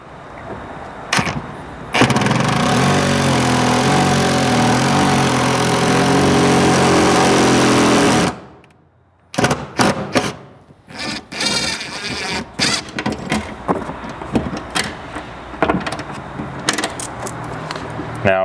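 An impact driver tightens a rib nut on an off-grid truck bed slide: a loud, sustained hammering rattle lasts about six seconds as the tool labors, followed by scattered clicks and handling knocks.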